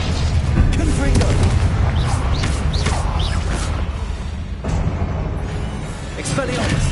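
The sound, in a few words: spell blasts in video game Hogwarts Legacy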